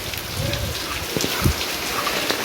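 Steady rain pours down on a wedding pavilion during an unseasonal Konkan downpour, a continuous broadband hiss with a few louder drops and thumps close by.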